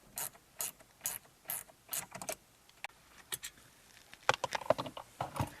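A ratchet driver clicks in quick bursts while backing out T20 Torx screws from a VW RNS 315 navigation radio, the sharp close ratcheting coming in short clusters with brief pauses between them.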